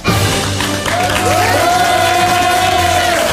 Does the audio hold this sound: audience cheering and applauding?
yes